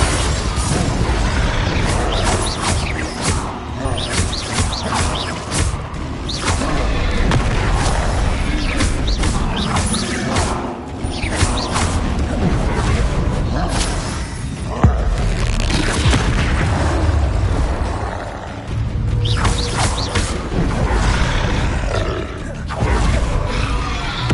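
Repeated Confringo explosions during Hogwarts Legacy video game combat: dense, continuous booming blasts and roaring bursts, loud and close, layered one after another with little pause.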